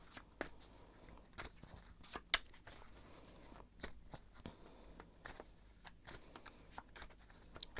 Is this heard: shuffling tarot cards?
yes